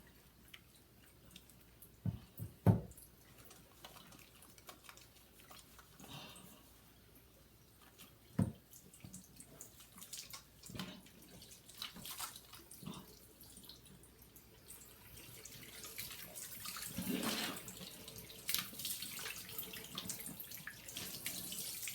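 Tap water running into a sink while soap is rinsed off a face: a soft, continuous trickle with occasional splashes and wet hand sounds, growing fuller toward the end.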